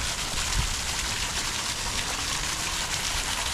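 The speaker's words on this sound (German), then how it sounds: "Und hier kommt das Wasser von oben runter." Water pouring down from above inside a concrete tunnel, a steady, loud, dense rush with no pauses or voices.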